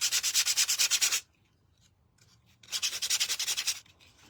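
Sanding the edges of a painted wooden heart by hand, two bursts of rapid rhythmic back-and-forth rasping strokes separated by a quiet pause, close and fairly loud with no talking.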